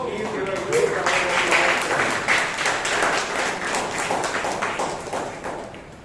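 Audience at a Toastmasters club meeting in Bangalore gives a round of applause, dense clapping from many hands in a room that swells quickly and then slowly tapers over several seconds, with a voice talking faintly underneath.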